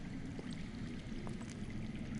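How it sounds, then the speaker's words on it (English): Underground water flows in a Game of Thrones video game, a faint, steady rushing stream murmuring continuously with no voices over it. "I hear water. From underground."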